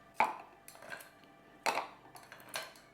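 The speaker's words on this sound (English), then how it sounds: "Now this is a shaken cocktail, so we're going to add our ice." Ice cubes clatter into a metal shaker for a Bee's Knees cocktail, several sharp clinking drops in separate bursts, close and fairly quiet, with no talking.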